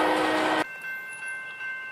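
A Norfolk Southern train near Selma gives a loud, steady horn blast that cuts off abruptly, leaving a quieter rolling rumble of cars on the line.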